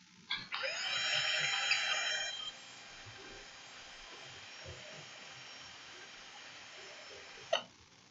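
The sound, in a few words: drill running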